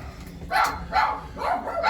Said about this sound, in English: I wish those dogs would shut the front door.